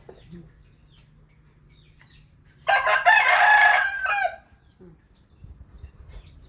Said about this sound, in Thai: สียงไก่ขัน